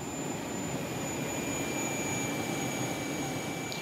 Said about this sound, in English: With a gas turbine engine, they sound more like a jet fighter than the old diesel-powered tank.